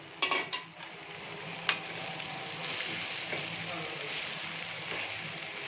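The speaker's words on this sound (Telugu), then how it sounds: "కడిగి పెట్టుకున్న అటుకులు వేసేస్తున్నా" Washed flattened rice (poha) is tipped into a pan for upma, with a couple of soft thumps at the start and then a quiet, steady sizzle with light stirring.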